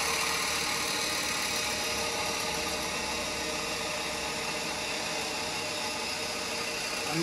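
A steady, dense mechanical whir of a Tesla turbine generator's gears running continuously at close range under electrical load, with a constant hum and no pauses.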